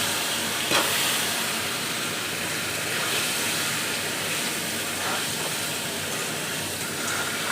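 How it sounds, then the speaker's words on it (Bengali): Boiled potatoes go into a hot pan with fried eggs and panch phoron, making a continuous, loud, close hissing sizzle that stays even throughout. "আর কিন্তু সিদ্ধ করে রাখা আলুগুলো দিয়ে দেবো।"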